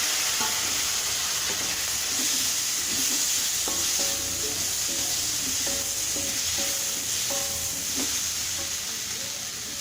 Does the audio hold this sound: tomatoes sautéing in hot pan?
yes